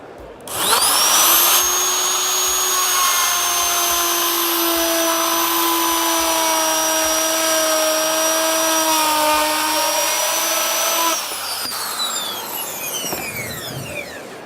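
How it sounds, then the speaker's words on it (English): A router cuts through aluminium fascia on site with a loud, steady high-pitched whine that holds for about ten seconds, then winds down as the bit spins to a stop. "this product can be routed and formed on site"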